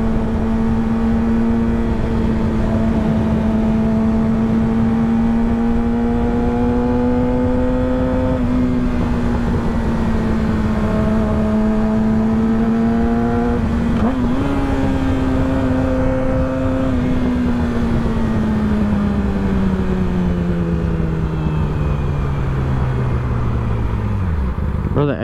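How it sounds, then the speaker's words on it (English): A motorcycle engine hums steadily under riding wind, its pitch holding, then rising briefly before winding steadily down as strong engine braking slows the bike, loud and close throughout. "The engine brake on this bike is so strong."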